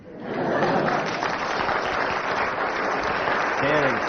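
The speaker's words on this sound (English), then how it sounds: "Cheering." A radio panel show's studio audience cheers and applauds, the sound swelling in quickly and then holding as a dense, loud roar of clapping with whoops that continues to the end.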